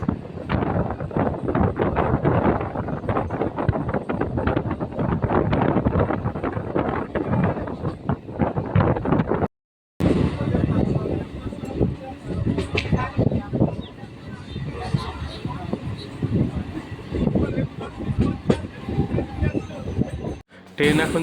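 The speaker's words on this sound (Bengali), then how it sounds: "ট্রেন এখন মধুসূদনপুর স্টেশন ছেড়ে বেরিয়ে যাচ্ছে" A local train on the Bali–Bardhaman chord line pulls out of Madhusudanpur station with a steady rumble and rattle, heavily buffeted by wind on the microphone. A voice talks over it, and there is a short break partway through.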